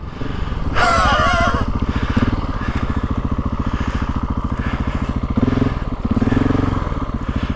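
GasGas ES 700 motorcycle ridden on a muddy track, its engine running loud and close throughout with a steady throbbing rumble and brief revving surges, plus wind buffeting and some clatter.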